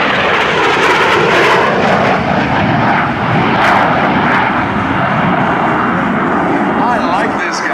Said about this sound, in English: F-117 fighter coming from behind us is high.